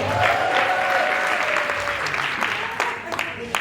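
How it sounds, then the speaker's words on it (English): An audience at a women's empowerment summit applauds steadily, a dense wash of many hands clapping with a few sharper claps standing out near the end. "Clap for yourselves, everybody."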